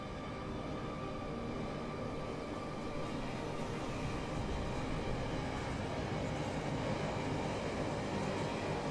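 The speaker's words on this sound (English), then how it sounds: "Let's see if that signal goes green once the train comes through." A model train on a Rolling Line layout rumbles steadily past at low level, a continuous faint rolling drone with no clear pauses.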